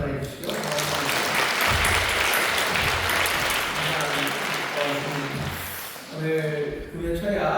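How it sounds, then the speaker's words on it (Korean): A church congregation at a Friday overnight prayer service claps in thanks for the worship team, a dense, sustained round of applause with voices and music woven underneath, fading briefly near the end before picking up again. "감사하다고 박수 한번 해주시죠"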